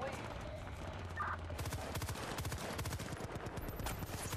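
Rapid gunfire in the multiplayer shooter Battlefield Bad Company 2, dense fast bursts of automatic shots in steady succession, fairly faint under a low rumbling background.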